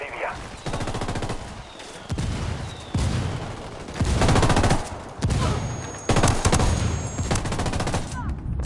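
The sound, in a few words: mortar fire in the video game Ghost Recon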